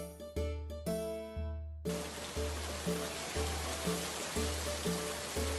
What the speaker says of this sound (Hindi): तभी जोर की बारिश हुई।